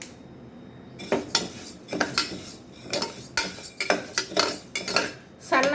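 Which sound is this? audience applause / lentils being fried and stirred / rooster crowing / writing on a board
lentils being fried and stirred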